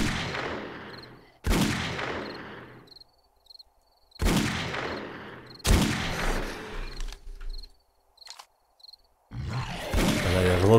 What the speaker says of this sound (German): der Revolver. Der hat zwar Wumms, ne?